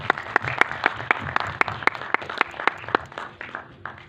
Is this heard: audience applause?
yes